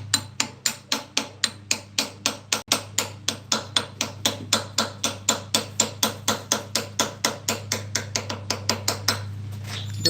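Small hammer, held up near its head, tapping lightly in a garage: a steady run of about forty quick, evenly spaced metallic taps over a constant low hum, close and fairly loud, with no talking.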